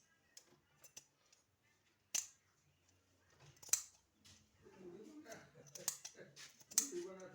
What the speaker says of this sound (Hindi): अब किनारे में जो कपड़ा एक्स्ट्रा निकला हुआ है इसको हमको अच्छे से काट लेना है